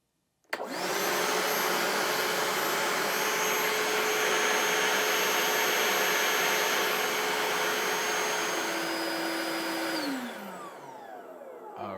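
Ridgid NXT cordless shop vac powered by an 18V battery runs steadily and loud at close range, a constant motor whine and airflow roar starting abruptly, then dropping in pitch near the end as it winds down.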